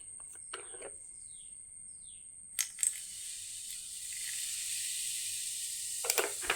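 Vinegar poured onto baking soda in a worn nonstick pan sets off a quiet hissing fizz that starts after a couple of faint clinks and keeps going steadily to the end.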